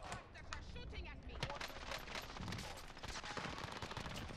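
Gunfire in the video game Warzone, dense rapid bursts and overlapping shots at low level forming a continuous clatter, with no voices over it.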